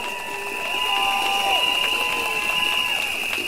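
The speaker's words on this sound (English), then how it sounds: "A big round of applause." Crowd cheering and applause at a PAP political rally at Keat Hong Plaza, a broad roar of voices and clapping with a sustained whistle or horn tone riding over it, loud and continuous.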